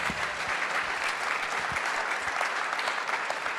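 An audience at a club event claps steadily for a few seconds, a bright continuous patter of many hands.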